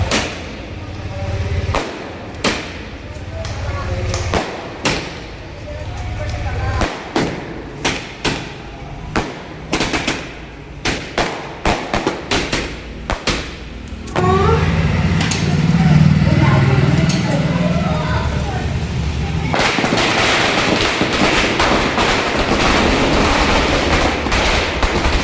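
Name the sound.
firecrackers being set off at night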